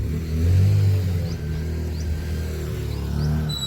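A motorcycle rumbles and revs at close range as it pulls away to take children to school. The engine drone is steady with slight swells and no voices.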